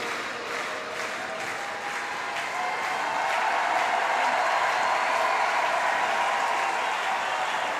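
A crowd at a wheelchair para table tennis doubles semi-final breaks into sustained applause, a steady wash of clapping that swells slightly midway and holds to the end.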